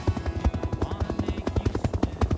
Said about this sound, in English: The noise from those helicopter blades